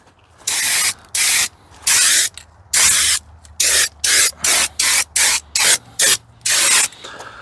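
An aerosol can sprays a coat of paint onto the back of a part in a series of about a dozen short, loud, close hissing bursts with brief gaps between them.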